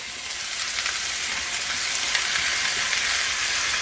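A pan of chopped vegetables and potatoes fries in a small amount of oil, with a steady, bright sizzle that holds evenly throughout, close and fairly loud, with no talking.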